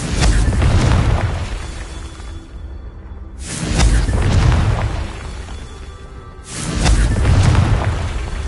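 A Confringo spell cast in Hogwarts Legacy sets off deep booming blasts, three heavy explosions with whooshing bursts and long rumbling decays, loud and close with no talking.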